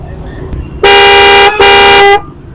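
A Japanese car horn, as sold from a rickshaw, blasts twice, loud and close, each honk a steady bright tone about half a second to a second long.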